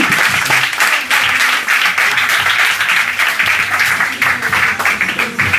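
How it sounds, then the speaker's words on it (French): Loud, dense applause from an audience for a performing artist, sustained clapping throughout with little other sound. "on l'applaudit"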